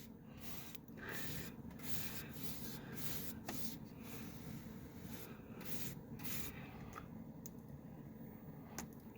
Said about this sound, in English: I have to go against the grain just to get up close to the edge there, and then I usually will brush out with the grain